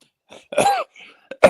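Several sharp coughs, close to the microphone: a couple of short bursts, then a pause and one more forceful cough at the end.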